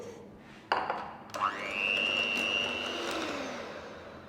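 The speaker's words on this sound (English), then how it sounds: "Now we're going to whip this until it's nice and smooth." A hand mixer clicks on and whirs steadily, its pitch rising then holding as it beats soft vegan cream cheese in a bowl.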